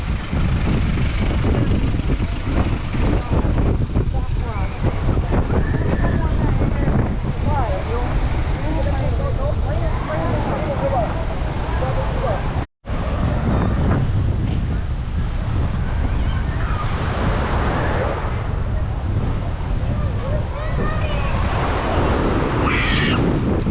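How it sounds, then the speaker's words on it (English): Strong wind buffets the microphone by the ocean, a loud continuous roar of rumbling gusts with surf noise mixed in, unbroken apart from a momentary dropout midway. "So windy."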